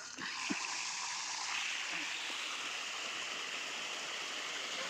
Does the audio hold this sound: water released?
yes